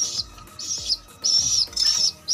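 A grizzle pigeon squab chirping, a series of high, thin, insistent begging peeps in short bursts about four times, close and clear, with faint rustling underneath and no talking.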